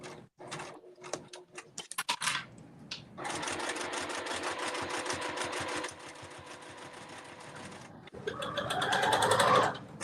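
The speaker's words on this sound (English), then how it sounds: "I am just loving this sewing machine." A domestic sewing machine runs in a steady mechanical whir while stitching a crossbody cell phone bag, starting after a few handling clicks, then slowing toward the end with higher whining tones.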